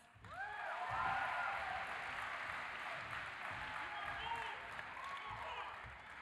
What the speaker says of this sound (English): So without further ado, give Austin Swift a warm applause